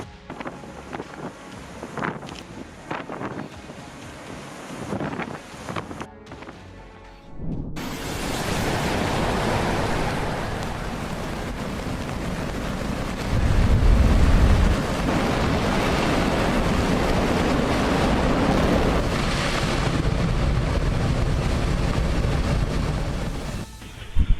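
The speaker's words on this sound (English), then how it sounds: "How tall do you think these waves are?" Ocean waves crash in a continuous loud roar of surf, mixed with heavy wind buffeting the microphone; the sound swells sharply after a quieter opening and holds steady to the end.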